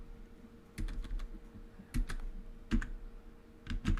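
Code is being typed on a computer keyboard in short bursts of clustered keystrokes, close and moderately quiet, over a faint steady background hum.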